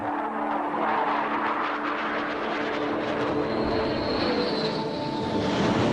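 Military aircraft pass overhead near White Sands Missile Range in New Mexico during a large air power exercise: a continuous, loud, broadband jet roar that holds steady for the whole stretch and swells slightly toward the end.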